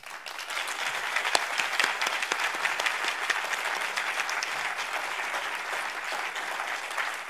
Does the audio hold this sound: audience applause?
yes